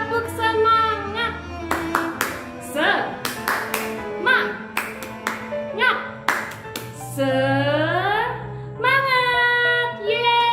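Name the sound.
children's rhythmic spirit clapping (tepuk semangat)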